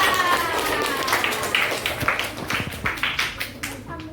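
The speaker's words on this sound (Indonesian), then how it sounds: "Tepuk tangan buat kita semuanya." A classroom breaks into rhythmic group clapping that grows more distinct toward the end, with children's voices mixed in.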